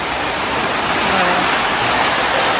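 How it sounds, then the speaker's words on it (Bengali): Steady heavy rain hisses down continuously with a brief storm, a dense, close wash of sound with no pauses. "তারপরে আবার দেখো বৃষ্টি চলে এসেছে"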